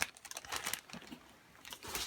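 Thin plastic bag holding Gundam model kit runner trees crinkles and rustles at close range in quick, irregular bursts, with soft crackles fading briefly before picking up again.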